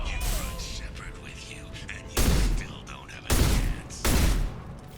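Gunfire and concussive shots ring out in a Mass Effect firefight. Three loud, broad blasts follow one another, each lasting about half a second, over a busier background of distant combat noise.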